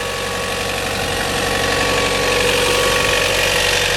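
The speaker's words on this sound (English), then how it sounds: "So you hear the engine itself, which is running just fine." A 2011 Chevy Volt's gasoline engine runs in service mode with the hood open, a steady, loud idle with an even mechanical hum and a rhythmic low throb, heard up close with no talking.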